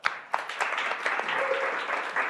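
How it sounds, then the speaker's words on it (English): A crowd breaks into applause, a burst of many hands clapping that holds steady and full for a couple of seconds. "Round of applause for that."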